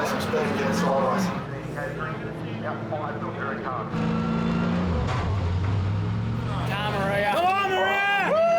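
Car driving fast through deep ruts along the Murray River, engine loud and revving throughout, with excited voices and shouting over it.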